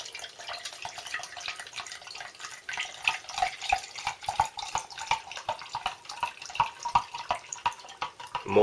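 Water poured for a British Army ration pack, a splashing, trickling stream with rapid irregular drips and gurgles that grows busier toward the end, close by and with no talking.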